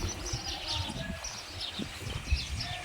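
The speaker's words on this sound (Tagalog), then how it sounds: "Oh, ang ingay-ingay nila nasa puno ng kahoy." Small birds chirp busily in a tree outdoors, their brief calls scattered over a steady outdoor background with some low rustling.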